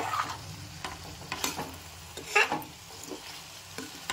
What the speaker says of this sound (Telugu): ఒకసారి ఆలు కలుపుకుందామండి.